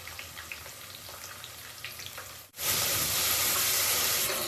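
Onions frying in a pan toward golden brown for palak chicken chops, a steady close sizzle that briefly dips and then returns louder and fuller, with no voices.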